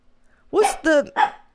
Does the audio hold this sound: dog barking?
yes